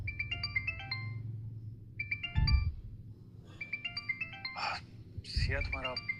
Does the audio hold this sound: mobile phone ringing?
yes